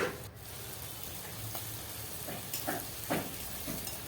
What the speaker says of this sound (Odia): ଚାଲିଛି ପିଆଜ ଭାଜା ଚାଲିଛି।